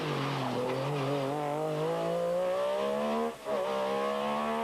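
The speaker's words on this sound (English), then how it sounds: "He finishes 9th in his magnificent sounding 6R4." A 6R4 rally car on a WRC gravel rally stage roars past nearby at sustained high revs, its engine note rising steadily, with a brief drop at a gear change before it pulls hard again.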